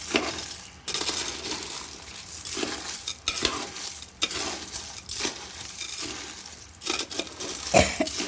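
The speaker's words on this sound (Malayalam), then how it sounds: "ഇതാണ് കക്ക തിളപ്പിക്കുന്നത്" Clams boiling in a pot while being stirred, with repeated rattling, clinking shell sounds and scraping against the pot over a bubbling hiss, in irregular bursts.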